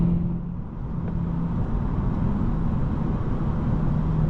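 A 2023 Lexus IS 500 F Sport Performance V8 runs steadily from the cabin, a continuous low engine drone with road rumble that holds fairly even throughout, no voices.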